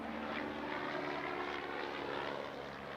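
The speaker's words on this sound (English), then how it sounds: "a plane flew over us" A propeller airplane drones steadily overhead, a broad continuous roar that holds at a fairly even level throughout, with no talk over it.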